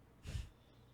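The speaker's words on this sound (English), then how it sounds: "Yeah, she sneezed though." A neighbor's single short sneeze, heard faint and somewhat distant, a brief burst in an otherwise quiet room.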